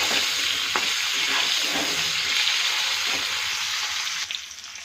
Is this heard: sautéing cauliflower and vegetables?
yes